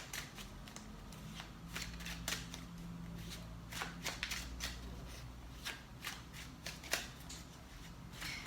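Tarot cards are shuffled and pulled by hand at close range, quiet riffling and soft snapping flicks continuing steadily, no voices.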